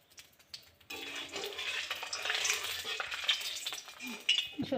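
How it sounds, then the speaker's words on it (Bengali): Banana-flower fritters fry in hot mustard oil in a wok, a dense, close crackle that bursts in after a short quiet moment and keeps sizzling steadily. "দেখো এই বড়াগুলো আগে ভেজে নেব, তেলটা গরম হয়ে গেছে।"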